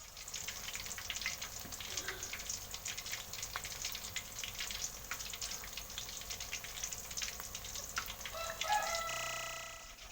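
Corn fritters (bakwan jagung), optionally with shrimp, frying in oil in a pan: a steady close crackle and sizzle running the whole time with no talk, plus a faint rooster crowing somewhere in the background.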